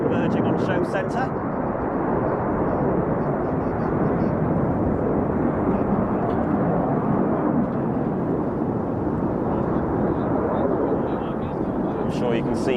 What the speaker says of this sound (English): To the left and the right, two aircraft on either side, converging on show centre.